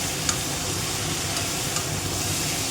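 Cauliflower sizzles and hisses steadily in a hot frying pan while being cooked for a Bengali cauliflower and pea curry, a dense continuous frying sound with no talking.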